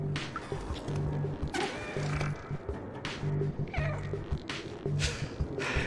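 Cat meowing in the video game Stray, repeated short meows over a busy game background with music and ambient noise, fairly steady and mid-loud.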